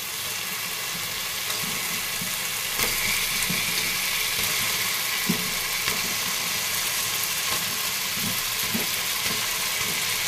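Chopped cucumber sizzles and fries steadily in a pan of chana dal curry cooking over high heat, a continuous broadband hiss with faint clatters of stirring and no talking.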